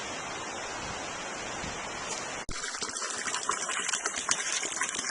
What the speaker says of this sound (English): Now this is spring water, you can drink it.